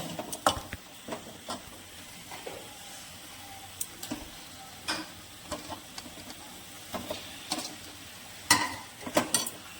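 Cauliflower florets tipped into a pan of spice paste fried with ginger and garlic, stirred with a utensil that scrapes and clinks repeatedly over a steady low sizzle.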